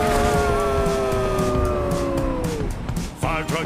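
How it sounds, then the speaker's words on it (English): A loud wailing fire truck siren sweeps downward and fades, with traffic rumble underneath and a brief voice near the end. "Fire truck time. Gotta make your siren sound."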